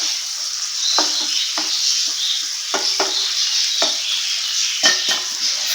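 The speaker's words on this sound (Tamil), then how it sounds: "இப்போ நம்ம ஓப்பனா வச்சு ஒரு 1 நிமிஷத்துக்கு இதை வதக்கி விட போறோம் இந்த எண்ணெயிலேயே." Broad beans and diced potato stir-fried in oil in an open pan, a steady close sizzle broken by repeated scraping and clinking strokes of a spatula against the pan, with no talk.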